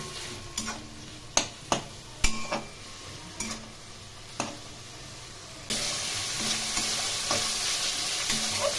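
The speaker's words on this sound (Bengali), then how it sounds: "এখন এগুলি বারবার করে নেড়ে ভেজে নেবো" Red spinach leaves stir-fry with salt and turmeric in a pan, with a few sharp spatula knocks over a low sizzle, then a louder, steady frying hiss near the end. The sound is close and without speech.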